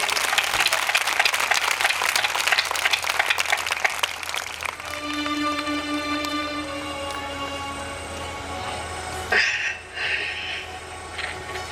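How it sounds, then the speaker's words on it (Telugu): A church congregation applauds loudly, with dense, fast clapping from a large crowd that tapers into sustained tones and a lingering hum, and the room is reverberant throughout. "చప్పట్లు కొట్టండి గట్టిగా."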